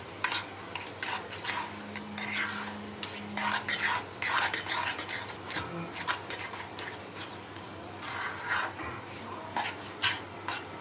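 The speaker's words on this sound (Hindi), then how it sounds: "हम इसको मिक्स करेंगे अच्छे से और जल्दी जल्दी" A cashew dessert mixture is stirred quickly in a pan, with rapid scraping and clinking strokes that run on steadily and loud at close range, while a faint voice is heard beneath.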